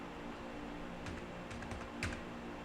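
A few light, faint keystrokes tap on a computer keyboard while code is typed, scattered clicks over steady room hiss, quiet and close with no voices.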